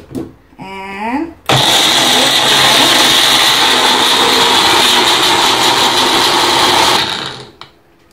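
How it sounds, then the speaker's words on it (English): A Magic Bullet blender mashes garlic with water into a paste: after a brief stretch of talk, the motor kicks in with a loud, steady grinding whir that runs about five seconds before winding down. "traditionally people just use a mortar to just mash the garlic, make it into a paste, but we're modern here, so we use magic bullet."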